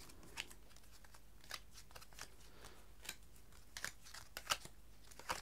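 A deck of tarot cards being cut and handled gives faint, scattered papery flicks and soft snaps close by, spaced irregularly in a quiet room.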